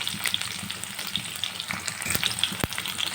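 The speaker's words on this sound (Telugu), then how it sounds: "ఆనియన్స్ పచ్చిమిర్చి రెండు అయితే వేసేసుకొని ఫ్రై చేసుకోవాలి" Onions and green chillies fry in a pan for fish curry. The sizzle is a steady, close crackle with scattered spitting pops, and one sharp utensil tap near the end. Nobody speaks.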